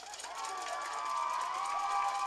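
Crowd at a high school football game, Minneapolis against LaCrosse, cheers and shouts in a swelling, sustained roar from the stands, heard from a distance.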